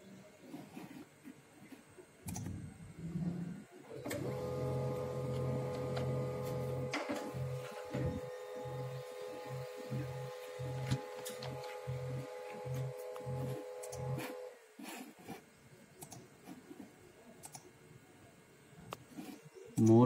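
An HP M1005 laser printer runs a print job, its mechanism whirring steadily for about ten seconds with a rapid rhythmic clatter, then going quiet, with faint room noise around it.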